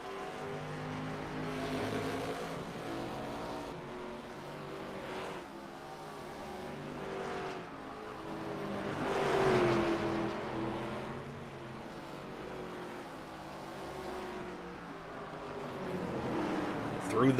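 Race cars lapping Lime Rock Park in a sim racing game, engines droning and rising and falling as they rev through corners, heard steadily beneath an excited commentator's voice.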